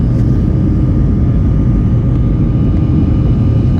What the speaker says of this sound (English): we are flying on an old Boeing 737-300